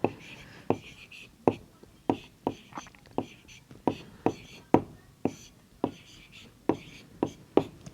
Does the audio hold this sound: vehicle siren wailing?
no